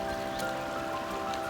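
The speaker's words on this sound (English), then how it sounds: "You can hear the river." The Gila River flows in a steady, continuous rush of water along a backcountry backpacking route, a broad even wash with faint tonal hum threaded through it and no voices.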